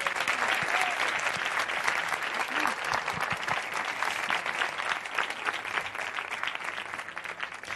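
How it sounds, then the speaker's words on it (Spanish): An audience gives a sustained round of applause at a Spanish-language event. Dense clapping fills the whole clip evenly, with a few faint voices underneath. "Un aplauso para ella."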